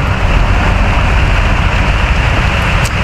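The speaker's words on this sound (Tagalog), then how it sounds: "Nabutan pa tuloy ng ulan." Heavy rain pours down steadily outdoors, a dense even hiss with close spattering that continues unbroken.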